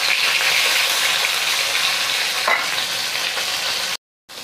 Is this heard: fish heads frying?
yes